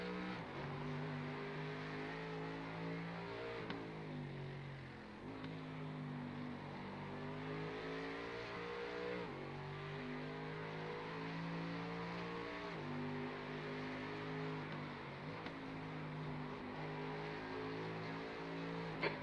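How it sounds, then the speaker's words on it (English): Prototype race cars in an IMSA endurance racing video game at Mid-Ohio drone steadily with engine pitch rising and falling through gear shifts, revving up and down repeatedly with no talking. "There's a faster car approaching."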